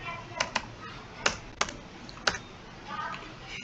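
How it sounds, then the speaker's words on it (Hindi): Someone types a pin code on a computer keyboard. A handful of crisp, separate key taps come at an uneven pace over a quiet room background, close and clear. "पिन कोड टाइप कर लेंगे।"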